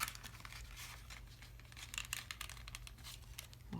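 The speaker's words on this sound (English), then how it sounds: "we're going to fold in these little handles first and fold this up" Paper handles on a small curvy keepsake jack-o'-lantern craft are folded over, giving continuous close crinkling and tearing-like rustles with scattered soft scratches, no talking.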